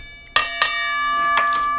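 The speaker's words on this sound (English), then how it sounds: "we even got a boxing bell out of it" A boxing bell rings twice in quick succession with sharp metallic strikes, then lighter chimes follow and a bright, steady ringing tone hangs behind them.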